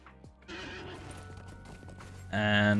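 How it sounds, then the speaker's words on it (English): A horse in The Lord of the Rings Online with hooves clip-clopping, a whinny and a louder burst near the end, heard alone without talk. "Let me get back on my horse."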